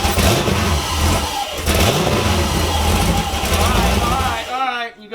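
A turbocharged Chevrolet Camaro engine, newly fitted with a large turbo kit, cranks and runs loudly and steadily at close range, with a dip near the end, while people talk over it.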